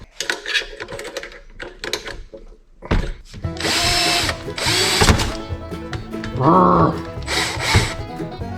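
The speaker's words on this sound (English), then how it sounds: "pretty good drilling." A power drill whirs in several loud bursts up close while scrapping an old punch clock, with a brief rising whine near the end and some scraping between runs.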